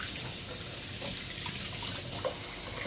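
Cold water runs steadily from a kitchen tap as garlic is rinsed off hands, a continuous close hiss and splash with no talking.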